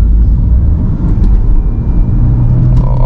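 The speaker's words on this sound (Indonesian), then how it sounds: "spooling turbonya kedengeran ya." Inside a 2011 Peugeot 3008 with a 1.6L turbo engine, a loud, steady engine rumble and road drone fill the cabin as the car accelerates, with a faint rising whine from the turbo spooling.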